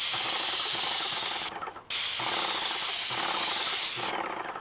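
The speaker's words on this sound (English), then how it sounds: "Now I'm gonna do a test and make sure my spray pattern's good." A paint sprayer hisses in loud, steady bursts, cutting out briefly between sprays before starting again, test-spraying to check its spray pattern before coating a popcorn ceiling.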